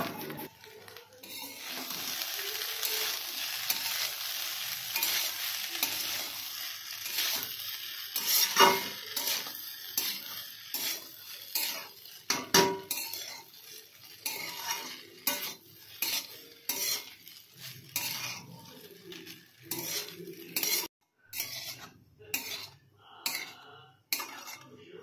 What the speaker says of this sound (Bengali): এখন হচ্ছে ভালো করে এটাকে নেড়েচেড়ে একটু ভাজা ভাজা করে